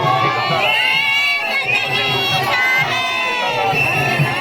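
Large crowd cheering and shouting at a Kabir chadar tilak ceremony, a dense, continuous roar of many voices with children's shouts mixed in, loud and steady throughout.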